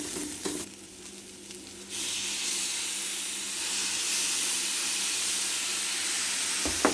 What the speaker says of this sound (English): So at this time we're gonna put in our tomato sauce to pick up that flavor at the bottom of that pot.